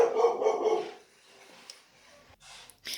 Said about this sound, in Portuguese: Pausei aqui para o cachorro terminar de latir.